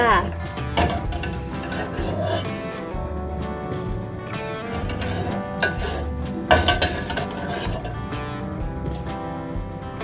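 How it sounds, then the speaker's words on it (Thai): Stewed shiitake mushrooms scooped into a pot of duck stewed with pickled lime, heard as close scraping, rubbing and soft clinks of a utensil against the pot, continuing steadily throughout. "เราก็จะตักเห็ดหอมที่เราตุ๋นไว้นะคะ ใส่ลงไปในหม้อเป็ดตุ๋นค่ะ"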